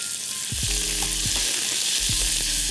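Finely chopped onion frying in a few spoons of hot oil with cumin seeds in a pressure cooker gives a steady, close sizzle, broken by several soft scraping stirs.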